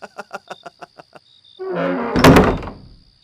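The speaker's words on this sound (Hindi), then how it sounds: "दरवाजा बंद कर देता है।" A door pulled shut in a village house, rendered as a single heavy thunk with a clattering rattle and a short ringing tail, preceded by a few soft evenly spaced taps, close and fairly loud.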